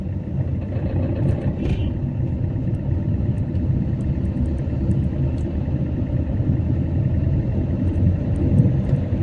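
Interior rumble of a car engine while driving and shifting into fourth gear, a steady low drone that stays even and fairly loud throughout with a brief click early on, no voices.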